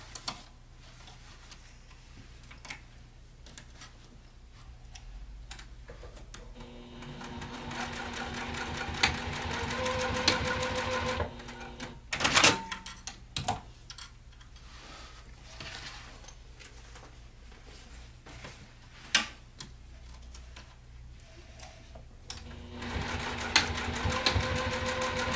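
A domestic sewing machine bastes connector pieces across a hip bag, running in stop-start bursts of rapid mechanical ticking and whirring, with quiet pauses and small clicks of handling between stitching runs.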